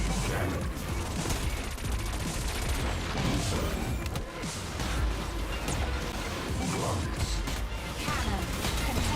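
Rocket explosions in the futuristic racing game Wipeout Omega Collection, a dense, continuous barrage of blasts and crashes layered over loud engine roar and music for the whole stretch, with no letup.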